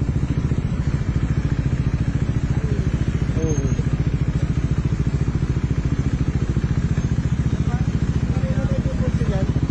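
A motorcycle engine idles loudly up close, its exhaust putting out a rapid steady rumble and popping, with a short exclamation from a voice.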